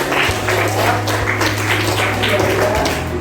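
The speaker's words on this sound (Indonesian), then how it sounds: "beri aplaus dulu buat Wahida" Applause for a student in a classroom: a short burst of dense clapping from the class that runs steadily for a few seconds, with voices mixed in.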